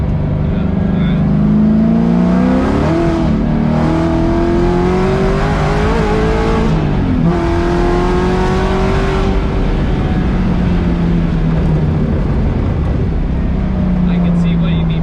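A Chevrolet Corvette C7 Z06 V8 roars loudly from inside the car as it pulls hard from around 3,000 RPM in third gear, the pitch climbing through gear changes and then settling into a steady drone, with voices talking over it.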